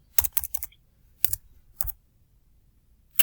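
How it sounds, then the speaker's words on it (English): A few sharp, separate key taps on a computer keyboard, close and quiet, come in small clusters with short silent gaps between them. "So I'll type mental health and I'll click on enter."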